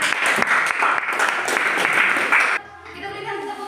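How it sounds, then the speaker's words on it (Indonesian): A classroom group gives applause for a presenting group, a steady roar of many hands clapping for over two seconds before it drops away into quieter room sound. "Kita berikan tepuk tangan buat kelompok peternakan."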